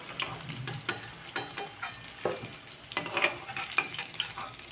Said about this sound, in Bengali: এইভাবে আমি সমস্ত বড়াগুলো ভেজে নেব।